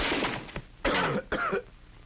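Three harsh coughs ring out close up, spaced apart, each a short rasping burst with quiet gaps between.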